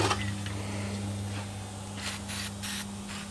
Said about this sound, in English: A little bit of brake cleaner, some air.